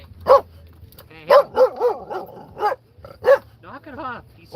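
A tiny dog inside a camper van barks and yips in short sharp bursts, close and loud, with people talking around it.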